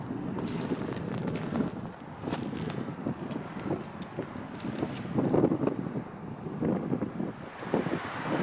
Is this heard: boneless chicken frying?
no